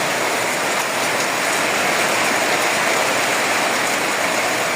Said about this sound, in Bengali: এখন স্বাভাবিকভাবে বৃষ্টি হচ্ছে